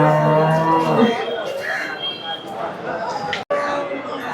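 A cow moos with a low, drawn-out call at a busy village cattle market, loud and close, with people chattering and a crowd murmuring around it.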